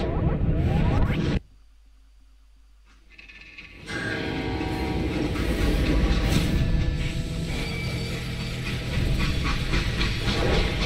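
Steam train in the Western video game Call of Juarez Gunslinger, a loud hissing, rumbling rush that drops briefly to a quiet lull, then returns as a sustained, dense clatter and hiss, with no speech.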